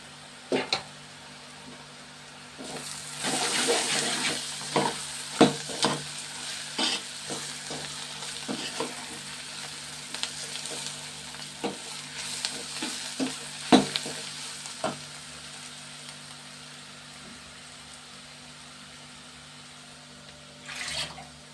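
Chili powder hits frying masala in a pan, the hiss swelling as a spoon stirs and scrapes in quick irregular knocks, then fading to a low simmer before a final clatter near the end.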